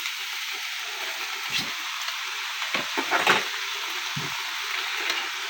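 String beans (sitaw) fry in a pan with a steady, close sizzle, broken by a few brief stirring scrapes and louder bursts, with no talking.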